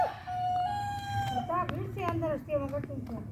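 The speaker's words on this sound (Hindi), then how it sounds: "ये कुट कुट कर रहा है मुर्गा" A rooster gives a run of short, repeated clucks and squawks at close range outdoors, with some background voices underneath.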